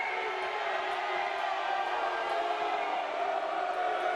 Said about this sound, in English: Crowd unhappy here as the call was reversed and Concordia given the point. Blue Devil faithful releasing groans of protests